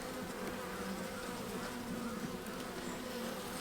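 Honey bees buzz steadily in an open hive, a dense, even drone heard close up with no talk.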